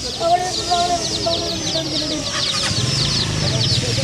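Busy clucking and cheeping of many chicks at a market in Hurghada, Egypt, a dense chorus of chirps with background hubbub and low rumble, steady throughout.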